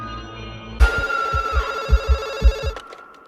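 A telephone bell rings loudly and close, a bright sustained metallic ring with rhythmic clattering pulses, starting abruptly and cutting off after about two seconds, heard alone in a horror-film setting.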